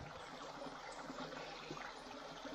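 A creek flowing over rocks, a soft continuous trickle and babble of water heard close by, faint and even throughout with no voices.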